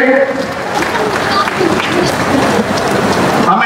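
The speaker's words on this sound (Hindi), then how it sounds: "जोरदार तालियों के साथ स्वागत करेंगे" An audience claps loudly to welcome a speaker at a BJP political program in Gurugram, a dense, sustained roar of clapping that fills the whole stretch without breaks.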